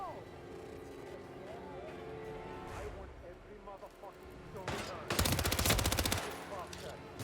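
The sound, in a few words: gunshots in a video game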